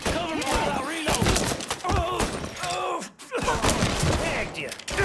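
Dense gunfire crackles through a shootout in Mafia 3, heavy bursts and thuds nearly continuous, loud and close, with shouted game voices over the shooting.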